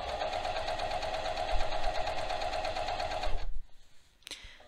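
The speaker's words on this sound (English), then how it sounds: "And you're just sewing like you would normally." A sewing machine running a hem on a Foz top, its steady, fast mechanical whir droning loud and close for several seconds before abruptly stopping, followed by a faint click.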